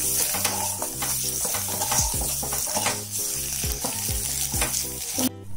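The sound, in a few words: boiled eggs frying in a pan on low flame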